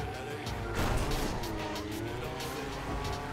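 A car in the game Crackdown drives with a steady, loud engine drone and road rumble, briefly swelling near the start, with no voices over it.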